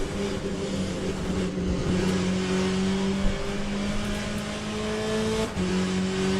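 A race car engine in the Le Mans Ultimate racing game drones steadily with shifting pitch tones, loud and continuous as the car laps, with brief dips where the throttle lifts.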